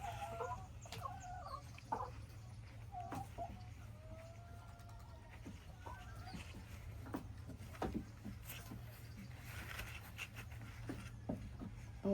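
Hens clucking inside a poultry coop on a Ghanaian homestead, with scattered nearby clucks and squawks over a steady low background drone, no talking.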